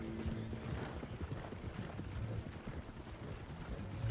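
Horse hooves clip-clop in Red Dead Online, a faint, distant, uneven patter of steps under a low ambient bed, with no talk.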